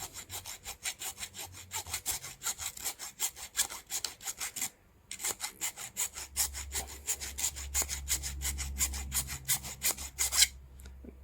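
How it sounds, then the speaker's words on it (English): A Leatherman multi-tool file rasps rapidly back and forth across a bolt on its coarse side, a steady fast rhythm of close scraping strokes with a brief pause midway and a low hum underneath. "So I'll hold the bolt in here, start with the more aggressive side of it"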